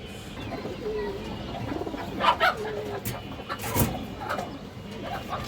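Female pigeons coo in a loft, a low bubbling murmur running under a brief shuffle of wings or handling noise, with a couple of sharper bursts near the middle.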